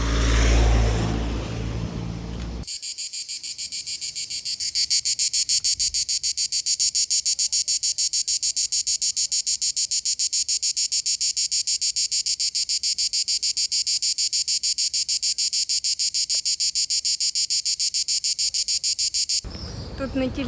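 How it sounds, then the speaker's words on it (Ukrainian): Wild cicadas in Makarska, Croatia, hold a loud, steady high buzzing drone that starts abruptly after a brief burst of other sound and carries on without a break, close and dominant, before cutting off near the end. "дикі цикади"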